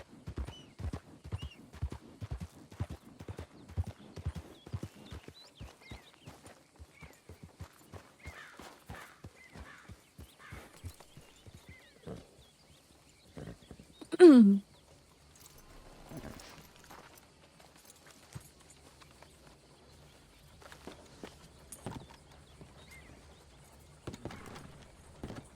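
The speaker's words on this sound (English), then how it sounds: "I'm just hearing my horse breathe then" A horse in the WildRP western game moves at a steady clip-clop with soft rhythmic breathing, then lets out a single loud neigh midway before settling into quiet, sparse hoof and breath sounds.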